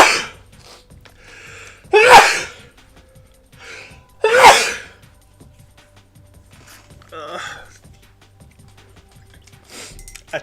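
Two sharp sneezes, a couple of seconds apart, break through an otherwise quiet room with faint background sounds.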